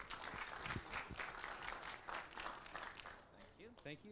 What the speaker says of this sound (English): please give a big round of applause to Mr. Walter Wofford.